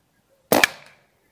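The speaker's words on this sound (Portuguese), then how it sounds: "Segundo disparo, olha só." One loud, close report from a Rossi Outlander carbine shooting a slug: a sharp doubled crack that fades quickly through a brief ringing tail, heard alone.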